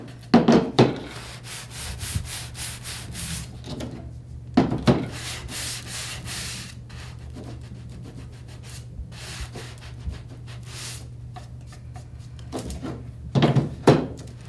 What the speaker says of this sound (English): sand it a little